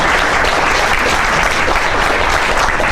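Sustained applause from an audience at a grassroots organizing opening session, dense steady clapping throughout with no pauses.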